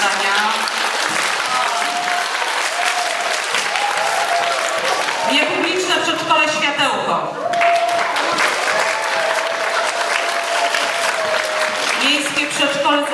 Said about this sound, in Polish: coś słabe te oklaski